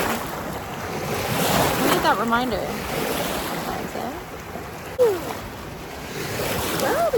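Ocean waves wash steadily onto a beach, a continuous broad surf roar with gusts of wind buffeting the microphone, while people chat nearby over it.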